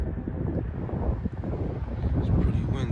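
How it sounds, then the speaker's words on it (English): Strong wind buffeting across an exposed mountaintop, a continuous low roaring rumble that rises and surges, close and heavy. "I can barely stand up here, it's so windy"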